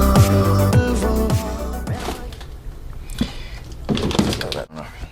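Freezer door in a home kitchen opening and closing with a couple of dull thunks and rattles, close by, amid clattering handling noises.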